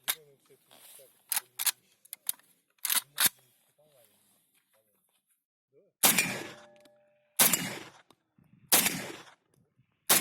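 A Saiga-410 shotgun with a proper .410 magazine fires .410 cartridges: a few light metallic clicks first, then three loud, sharp shots spaced about a second and a half apart, each with a short ringing tail.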